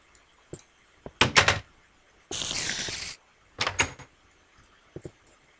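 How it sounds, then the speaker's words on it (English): A door opens in the Minecraft video game, a few short clicky knocks and a louder scraping burst, set among other sparse game sounds with no talking. "The left one opens the door."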